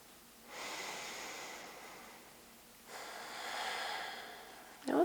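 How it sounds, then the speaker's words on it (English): Slow, deep breaths during a gentle standing yoga practice: two long, airy breaths drawn and released one after another, close and soft in a quiet room, with a small rustle at the end. "Just taking a few deep breaths here."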